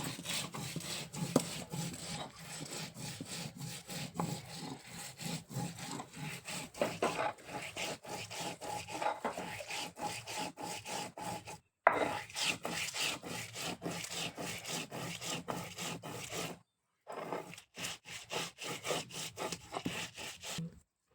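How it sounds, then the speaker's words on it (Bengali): Raw coriander chutney paste being ground by hand with a little water, a steady rhythmic rubbing and scraping of stone strokes repeating closely, alone, with two brief pauses. "দিয়ে দেবো আমি একটু জল, আবারও আমি ভালো করে বেটে নেব"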